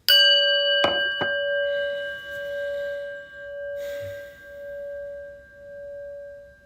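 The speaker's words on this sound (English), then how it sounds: "we're going to start with listening to the prayer bell" A prayer bell struck once before meditation gives a bright, clear ding that rings out long and slowly fades, with a couple of faint clinks right after the strike in an otherwise quiet room.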